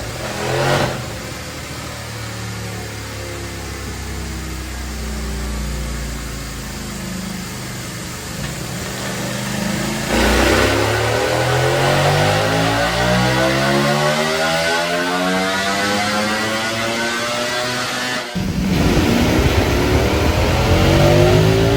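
A 2025 Ducati Panigale V4 engine on a dyno revs hard through repeated long pulls, its pitch climbing to a loud, screaming wail before cutting off abruptly.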